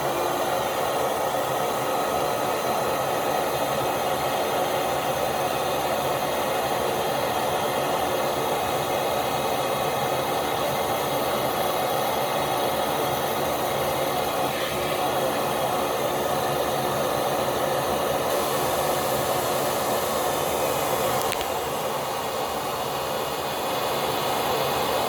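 A Kenmore Whispertone vacuum cleaner runs steadily with its hose attached, a loud continuous motor whine and airy rush that barely changes throughout.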